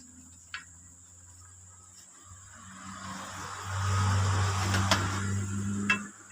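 Insects such as crickets buzz and drone steadily through a quiet outdoor setting, with a low hum swelling in the middle and a few faint clicks and taps, no voices present.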